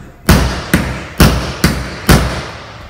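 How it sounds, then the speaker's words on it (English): A metal chisel is struck to separate ceramic floor tiles during tile removal. Five loud, close, hard taps come in a quick, slightly uneven rhythm, each a short thud with a bright click. "I'm gonna have to use my chisel at some point and tap"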